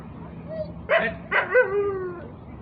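A six-month-old puppy lets out a few short yips and barks, with a whining tail on the last one. They sound fairly close over a quiet background.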